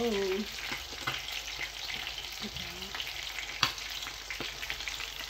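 Tilapia frying in a pan, a steady dense sizzle with occasional sharper pops and crackles, close and continuous throughout with no talking.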